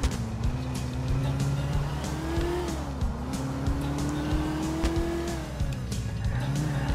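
A Banshee sports car driven hard in GTA IV, its engine droning steadily and loud throughout with pitch rising and falling through gear changes, accompanied by tire squeal and road noise, with no talking.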